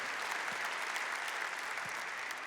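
A church congregation claps for the youth singers, a sustained and even round of applause that fills the room at moderate loudness with no voices over it.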